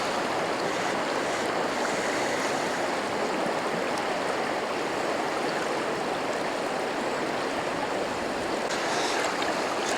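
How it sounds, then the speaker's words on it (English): A river flows steadily around an angler wading across the Cowlitz River while steelhead fishing, a constant close broadband rush of water with no pauses or talk. "I'm more than halfway across the river."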